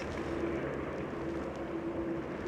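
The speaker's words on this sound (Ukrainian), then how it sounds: "Я думаю, він на нас летить цей вертоліт." A low-flying helicopter drones close by at a river overlook in Oregon, a steady, loud rotor and engine rumble holding for the whole stretch with no talking.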